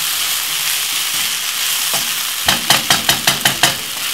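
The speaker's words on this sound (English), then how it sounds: "So roughly fry this for about 5 to 6 more minutes." Sweet chili fried rice fries in a pan with a steady loud sizzle, then a quick run of about seven sharp rhythmic scraping stir strokes near the end.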